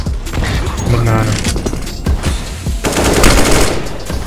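Rapid gunfire from a Counter-Strike: Global Offensive match rattles in loud bursts, mixed with game effects and close voice chat from players.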